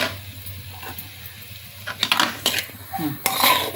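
A spoon mixes jackfruit seed samosa filling in a metal pan, light scraping at first, then a run of louder clanks and scrapes against the pan, close and alone.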